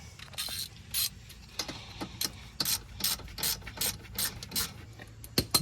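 A ratchet with a 12mm socket tightens a brake line bolt on a Subaru Ascent, giving repeated bursts of close, crisp metallic clicking in an uneven rhythm with short pauses between strokes.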